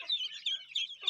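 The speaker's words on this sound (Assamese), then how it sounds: "বহুত আছে হাঁহ পোৱালি" Local ducklings, not the Campbell breed, give faint, high, thin peeping calls in quick repeated chirps, heard close by with no other noise.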